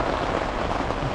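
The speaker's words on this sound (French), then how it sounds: "Il pleut de malade." Heavy rain pours down steadily in a constant, dense hiss with no distinct drops or voices, loud and close, as if drumming on a tent or nearby surface during a mountain trek.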